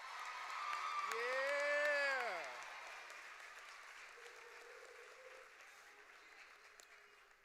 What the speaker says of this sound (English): could we give a huge round of applause to the class of 2026?